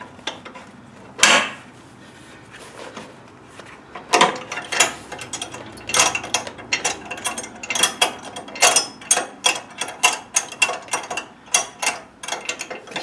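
A ratchet tightens a propane tank mount on a 2019 XL Boondock Edge trailer, rapid clicking strokes in irregular bursts growing denser toward the end, close and fairly loud with no talk.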